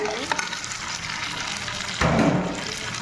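Fish frying in a pan with onion and dried red chili powder, a continuous near sizzle with stirring scrapes that swells louder near the end.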